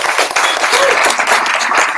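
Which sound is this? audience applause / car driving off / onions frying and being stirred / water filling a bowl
audience applause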